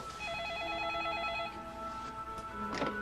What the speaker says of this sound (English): Right about that instant, the telephone rang.